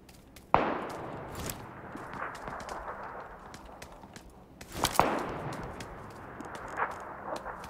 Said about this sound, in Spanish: Por allá son los sonidos, los disparos